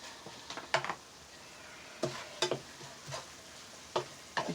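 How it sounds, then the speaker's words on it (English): A spoon stirs black pepper through onions, celery and butter in a single pan for a quick stuffing, giving soft sizzling under clusters of scraping and clinking strokes. "we're going to stir it around again"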